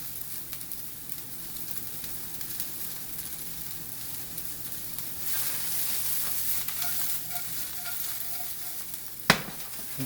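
Carrots and asparagus sizzling as they heat in a pan, a steady soft frying hiss with faint crackle and a sharp clink near the end, no talking.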